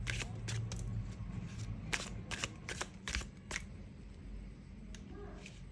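Tarot cards shuffled and drawn from the deck in a steady series of crisp riffling snaps and slides, close and fairly loud over a low background hum, with no talk.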